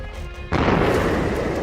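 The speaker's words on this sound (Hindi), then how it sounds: "तेहरान की सुबह एक बार फिर धमाके की आवाज से कांप उठी।" An airstrike explosion over Tehran at dawn: quiet background broken by an abrupt, loud blast that swells into a broad, sustained roaring rumble lasting over a second.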